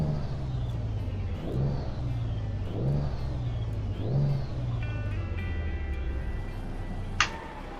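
A 1974 Kenworth W900A truck in American Truck Simulator idles with a deep, steady rumble, revving up three times in rising swells before settling, followed by a sharp click.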